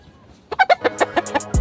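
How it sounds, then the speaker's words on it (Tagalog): Chickens cluck in a quick series of sharp, close calls, about eight in a row after a quiet start, ending in a lower thump. "Magandang manok to."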